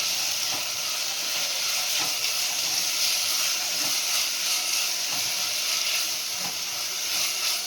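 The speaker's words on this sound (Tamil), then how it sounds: "இப்போ வெங்காயம், பச்சை மிளகாய், இஞ்சி, பூண்டு கட் பண்ணி வச்சாலும் அதை சேர்த்துடலாம். நல்லா வதக்கிடலாம்." Chopped onion, green chili, ginger and garlic sauté in hot oil in a pan, giving a steady, close hiss and sizzle that runs unbroken throughout with faint scattered crackles.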